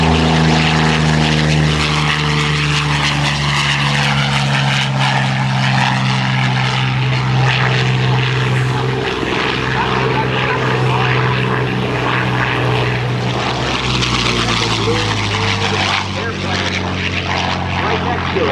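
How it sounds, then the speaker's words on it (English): A Yakovlev Yak-9 warbird at a 2007 naval air station airshow, its propeller engine droning loud and steady throughout, with an announcer talking over it. "Yak-9. He'll be taken to the sky very, very shortly"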